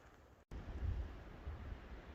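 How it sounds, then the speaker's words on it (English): Steady low rumbling wind buffeting outdoors on the Arizona Trail, with a brief dropout near the start, then continuous gusty noise throughout. "It is windy."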